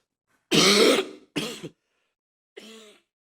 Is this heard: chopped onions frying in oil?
no